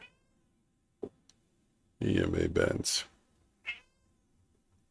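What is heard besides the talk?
cat meowing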